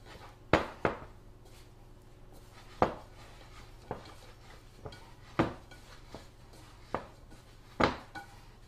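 A spatula or spoon scraping and knocking against a mixing bowl of vegan scone dough, giving about ten sharp, separate clacks at an uneven pace over a quiet background hum.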